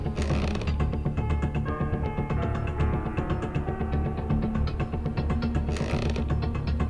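A door creaking open in the horror video game Granny, played on extreme mode: a long, loud, grinding wooden creak with ratcheting mechanical texture, sustained for several seconds with no speech over it.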